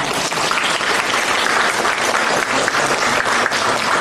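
An audience claps steadily through a Buddhist dharma talk in Aarhus, Denmark, a dense, even wash of many hands that is fairly loud and sustained, with no talk.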